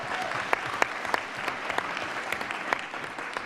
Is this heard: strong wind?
no